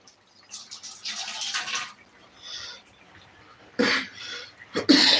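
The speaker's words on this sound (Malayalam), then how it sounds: "ചുമ പിടിച്ചോട്ടോ" A few coughing bursts, the loudest one near the end, separated by quieter gaps with faint background noise.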